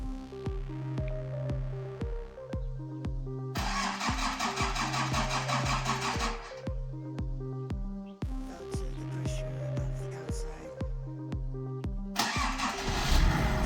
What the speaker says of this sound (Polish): odpala żuka